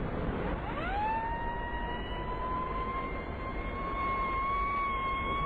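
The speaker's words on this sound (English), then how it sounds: "You better have the siren, Barclay." A police car siren from a radio drama rises and then holds a steady, loud wail over a constant engine-like rumble, alone with no talking.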